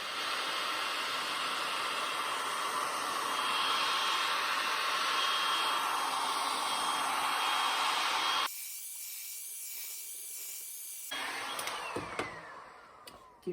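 A DIAFIELD heat gun blows hot air onto a rubber line with a steady, close, loud airy hiss for about eight seconds, then cuts off, leaving a quiet hum and a few small handling clicks.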